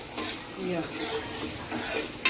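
Carrots sauté in a pan for Hakka noodles while a utensil stirs them, making several scraping, clattering strokes over a light sizzle, close and fairly quiet.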